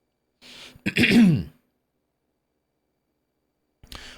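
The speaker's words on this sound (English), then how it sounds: "I'm about to sneeze." A single sharp nasal burst, like a sneeze, with a short breathy lead-in, followed by silence and a brief faint noise near the end.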